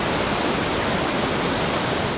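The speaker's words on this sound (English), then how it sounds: "Victoria Falls, one of the 7 natural wonders of the world, is alive with fast-moving water." Fast-moving water at Victoria Falls, a steady, dense roar of rushing and crashing water filling the whole clip at even loudness with no pauses.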